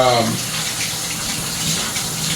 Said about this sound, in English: Me I go wash my hand.